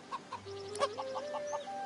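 A rooster in Divinity: Original Sin 2 gives a rapid run of clucks close by, with tonal squawks rising and falling over about two seconds.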